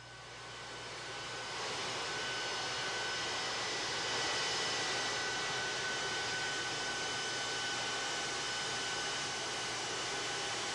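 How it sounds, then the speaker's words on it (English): A plane taxis on the ground into a hangar at Ellington after landing, a steady loud engine whine and roar that swells slightly midway and holds constant, with no voices. "the plane now on the ground pulling into the hangar out there at Ellington"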